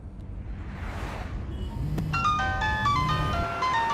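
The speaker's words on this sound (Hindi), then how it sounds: "देखो, उसका फोन बज रहा है।" A mobile phone rings with a bright, repeating melodic tone that starts about halfway through and continues, over a low background rumble and a passing whoosh.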